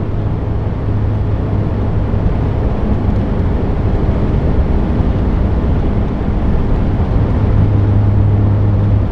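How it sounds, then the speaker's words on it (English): A highly modified Mazda Miata ND cruises at highway speed, giving a dense, steady roar of wind and road noise over a low exhaust drone that swells slightly near the end. "This is when you're giving it a little bit of gas."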